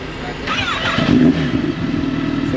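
A Kawasaki ZX10R motorcycle cold-starts close by, its engine catching with a sudden burst and then settling into a steady rough idle, while someone talks over it.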